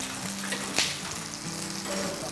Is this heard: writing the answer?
no